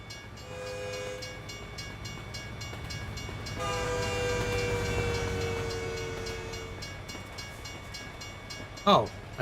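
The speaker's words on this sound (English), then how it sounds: "Sounds like a train." A train in American Truck Simulator passes with a steady rumble and sustained horn tones, ending in a short rising whistle-like burst.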